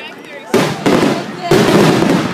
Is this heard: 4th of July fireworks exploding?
yes